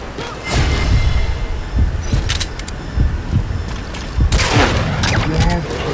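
Gunfire in the video game Metal Gear Solid 5, with loud bursts and booming shots layered over game ambience and rumble, while people talk over it.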